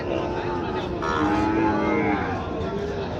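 At a cattle haat in Raniganj where Sahiwal bull calves are sold, a cow lets out a long, loud moo over a busy market din and crowd murmur.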